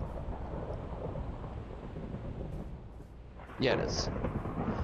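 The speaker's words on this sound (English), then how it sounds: "that's a nice lightning strike" Thunder from a lightning strike rumbles low and steady in the game Minecraft, then a sharper crack bursts in near the end. A voice speaks briefly over it.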